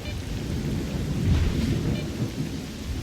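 Thunderstorm in S.T.A.L.K.E.R. Shadow of Chernobyl, with a steady wash of rain and low, rolling thunder that swells to a heavy rumble midway before easing, loud and continuous with no talking.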